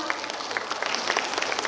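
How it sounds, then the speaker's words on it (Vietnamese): Applause from an audience at a 2023 school celebration, thanking a performer: a short, steady patter of many hands clapping at moderate distance, with no voices over it. "hãy chúng ta hãy cùng một tràng pháo tay thật lớn để cảm ơn phần biểu diễn của chị Hai được không ạ?"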